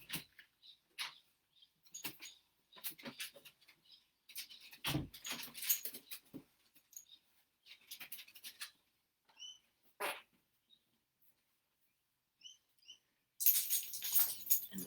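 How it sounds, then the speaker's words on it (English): A dog scratches at a door in irregular bursts of scraping and pattering, with quiet pauses between them and a louder flurry at the end. "someone has let my dog out and she's scratching at the door"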